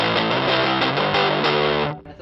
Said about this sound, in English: Now let's go for the distortion.